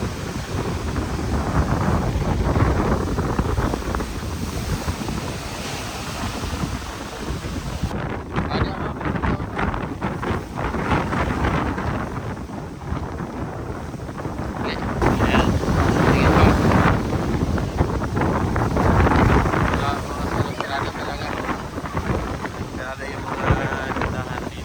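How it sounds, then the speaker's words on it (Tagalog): Strong wind buffets the microphone aboard a boat at sea off Bohol, a continuous roaring rumble with surging gusts that rise and fall for the whole stretch. "Malakas pa rin yung hangin."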